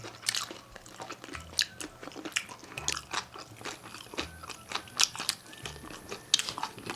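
Close, crisp crunching of chewy pork skin being eaten, with repeated bites and wet chewing in an irregular rhythm, alone and without talk.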